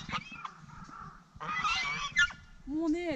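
Several birds honking and calling on a wintry mountain, loud squawks and honks in bursts at close range, some overlapping, with faint background noise.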